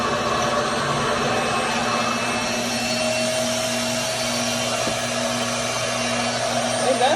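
A Revair reverse-air hair dryer runs continuously with a steady, loud suction whine and airy roar, holding an even drone with a faint tonal hum underneath.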